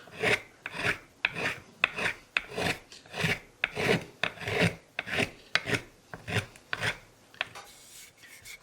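Repeated rhythmic scraping strokes on the wooden fingerboard of an old German fiddle, about a dozen steady rasping passes close up with no talking.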